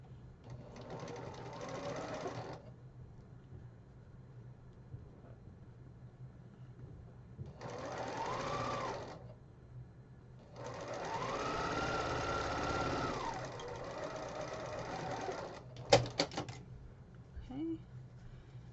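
Sewing machine stitching quilt pieces together in three bursts: a short run, a brief run, then a longer steady whir, with quiet pauses and a few clicks and handling sounds near the end.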